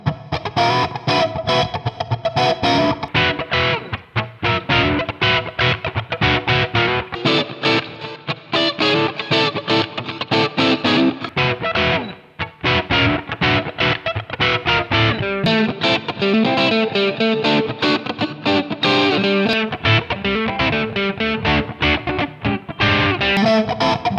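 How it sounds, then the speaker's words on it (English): Electric guitar crunch tones played through an HX Stomp amp model, with overdriven strummed chords and riffs running continuously and loud, with brief pauses. "try out some crunch tones with the same amp"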